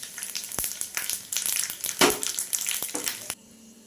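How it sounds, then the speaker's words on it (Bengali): Whole cumin seeds sizzle and crackle in hot oil as a tempering for a poha snack, with a steady close frying hiss, a few sharp pops and stirring noises, and a sudden cut near the end. "গোটা জিরে ফোড়নে দিলাম"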